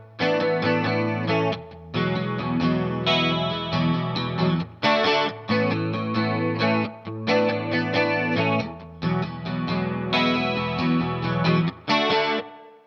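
Electric guitar with a shimmering chorus effect and light overdrive plays the intro and chorus chord progression of a song, a four-bar cycle of ringing chords starting on D, repeated several times with brief breaks between phrases.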